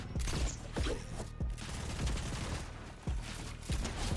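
Rapid bursts of video game gunfire from a Fortnite match, loud repeated shots in quick clusters over a dense, busy background, with no talking.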